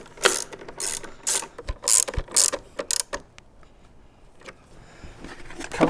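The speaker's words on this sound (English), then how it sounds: "Toward the end, you want to use a hand ratchet so you don't overdo it." A hand ratchet tightens a plug into the power distribution centre of a Jeep JL Wrangler or Gladiator with a quick series of close, crisp clicking strokes, then slower fainter clicks as it stops.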